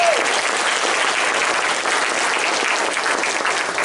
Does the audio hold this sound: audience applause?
yes